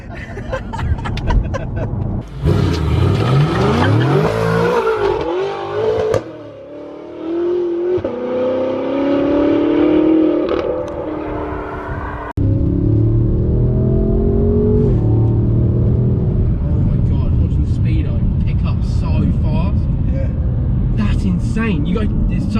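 A twin-turbo 1000 bhp BMW M5 engine revving hard as it accelerates, pitch climbing through gears, loud and close, with excited voices and laughter from inside.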